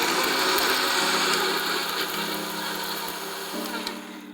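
A mixer grinder dry-grinds warm roasted spices with a loud, continuous whirring roar that shifts slightly in pitch partway through, with no talking.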